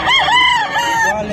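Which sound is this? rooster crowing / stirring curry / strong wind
rooster crowing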